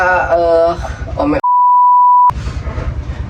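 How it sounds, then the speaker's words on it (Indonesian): A flat, steady censor bleep of almost a second replaces an app name in a lively Indonesian podcast chat, cutting in sharply between stretches of loud talking and stopping just as abruptly. "Editor tolong di bip itu aplikasi"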